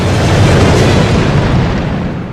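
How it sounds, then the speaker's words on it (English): A massive in-game nuclear blast in Resident Evil Code Veronica, a loud, deep rolling boom that swells immediately and slowly fades over a couple of seconds, with no talking. "Not the nuclear explosion in Antarctica."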